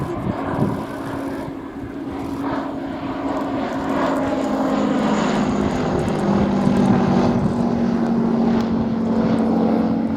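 A Bristol F2B Fighter, the First World War two-seat biplane, drones loudly overhead at an airshow, its propeller engine holding a steady, rising roar with wind buffeting throughout.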